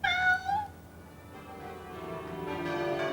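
A black cat gives one clear rising meow near the start, then falls quiet while faint bell-like tones ring in the background.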